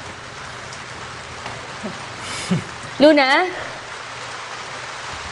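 Rain falls outside as a soft, steady hiss in the background while a few brief voices speak over it indoors, including one short call.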